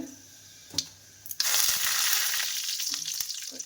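Whole spices temper in hot oil in a pan: a couple of clicks and light taps, then a sudden loud crackling sizzle that swells and holds steady, with occasional stirring scrapes underneath.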